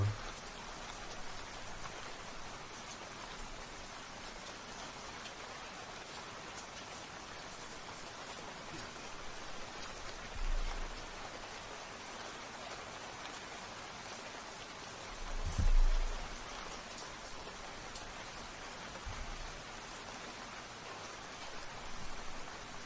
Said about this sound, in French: Une pluie du dimanche soir.